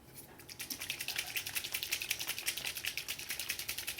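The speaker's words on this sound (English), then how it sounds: "You have to get these shaken up really well to hear the ball moving around" A paint marker is shaken hard and fast, its mixing ball rattling inside in a rapid, even run of sharp clicks, close and alone at a moderate level.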